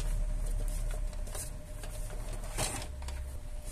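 Plastic clatter and sliding scrapes as the duplex unit is pulled out from the back of an HP LaserJet P4014n laser printer, a steady low hum underneath and a louder knock near the end, close by with no talking.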